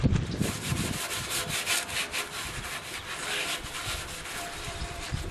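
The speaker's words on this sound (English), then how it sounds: "we'll just take our scrubber and try and get the rest" A scrubber rasps back and forth over greasy gas grill parts in quick, rhythmic strokes, close and moderately loud, with a brief heavier scrape at the start.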